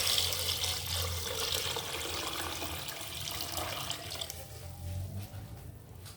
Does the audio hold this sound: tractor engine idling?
no